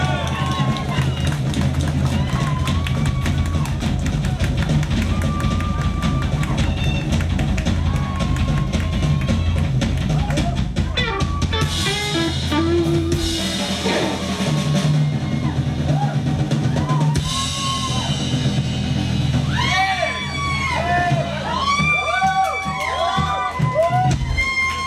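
A crowd at a live rock show at Yokohama FAD claps and cheers for a long stretch, with dense clapping and shouts as someone speaks over it and music mixes in.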